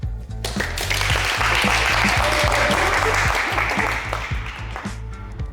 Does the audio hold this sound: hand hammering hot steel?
no